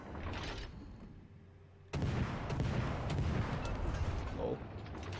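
Heavy naval gunfire from a Musashi battleship in World of Warships Legends, a sudden loud boom at about two seconds followed by sustained rumbling and explosive impacts, with game sounds underneath throughout.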